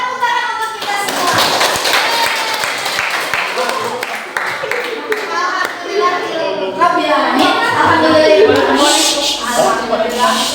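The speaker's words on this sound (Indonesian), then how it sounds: "Beri tepuk tangan untuk kita semua." Children in a classroom clap together after a school project activity, a dense, steady patter of many small hands close by, with young voices chattering over it throughout.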